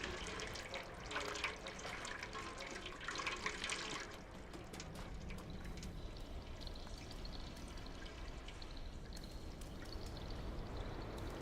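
Water pours and trickles as a character drinks in a video game, a quiet gurgle that is busier at first and then settles into soft drips and splashes, with no talking.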